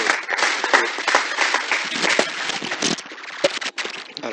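An audience claps steadily at a women's rights conference, dense and fairly close, with the applause tapering and thinning toward the end.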